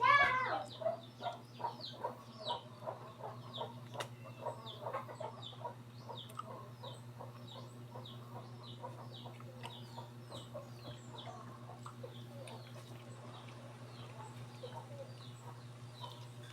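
Chickens cluck repeatedly nearby, a busy scatter of short calls over a steady low hum, louder at first and then continuing more softly.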